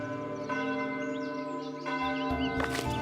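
A church-style bell in the Foundation building game rings out in sustained, overlapping metallic tones, loud and resonant, with fresh strikes layering over the ringing decay.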